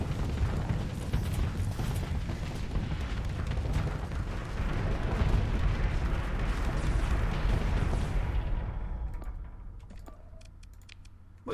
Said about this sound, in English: the Morthan just exploded